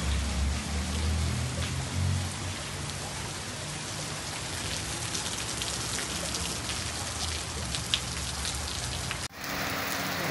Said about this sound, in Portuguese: Desde cedo, chovendo muito, graças a Deus, de tempo fechado, viu?